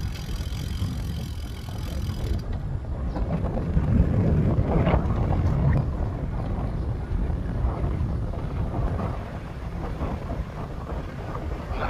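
Strong headwind buffets the microphone in a steady, low roaring rush that swells and eases over several seconds, on an outdoor road trail.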